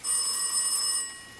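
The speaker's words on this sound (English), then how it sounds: "his phone rang once," A telephone bell rings with a bright, continuous metallic trill for about a second before cutting off, moderately loud with no voices.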